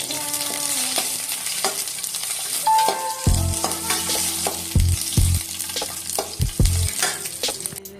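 Dry red chilies and green chilies fry in hot oil for curry leaf powder, giving a steady close sizzle throughout, with a few dull knocks and spoon scrapes against the pan partway through.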